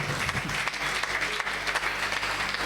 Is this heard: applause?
yes